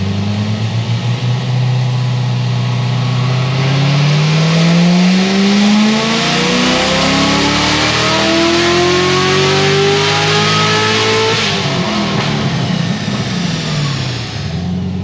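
Corvette C7 Z06 on pump gas with methanol injection making a cold dyno pull, its engine note rising steadily in pitch as it revs up, loud and close, then dropping off sharply near the end.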